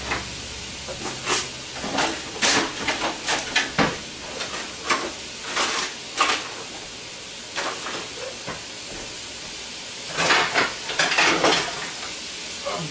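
Italian tomato sauce being stirred in a pan, with a spoon scraping and swishing in repeated irregular strokes over a steady simmering sizzle, close up and with no talking.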